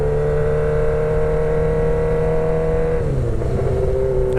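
Steady engine drone from a 2006 Suzuki GSXR 1000 motorcycle with a full exhaust, loud and close, holding an even pitch before dropping slightly as the rider eases off.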